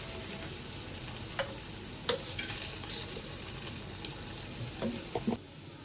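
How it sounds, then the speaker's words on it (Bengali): Rice for pulao is sautéed in a pan with ginger, green chilli and bay leaf, a close steady frying hiss broken by frequent ticking taps and scrapes of stirring. "ভালোভাবে এই যে চালটা কষিয়ে নিব"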